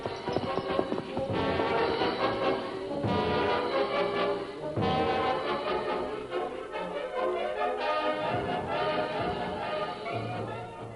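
Radio drama sound effect of horses riding off, a busy run of hoofbeats and galloping clatter mixed with dramatic music, loud and continuous across the whole stretch.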